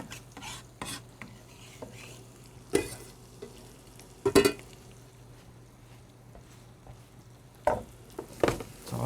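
Pancetta browns in a pan with a quiet, steady sizzle, broken by a few sharp clinks and scrapes of a utensil stirring against the pan. No one speaks.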